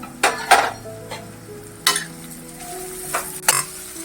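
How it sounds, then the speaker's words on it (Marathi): Carrots and cabbage are stir-fried in a pan for hakka noodles, with a soft steady sizzle under several sharp clanks of a spatula scraping and striking the pan at irregular intervals. "गाजर म्हणजे चांगला फ्राय करून घ्यायचंय आता आपण कोबी घालून घेऊया"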